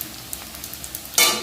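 Potatoes are added to onion, garlic and ginger already frying in a pan. A faint crackle is followed by a sudden loud burst of sizzling as they hit the oil.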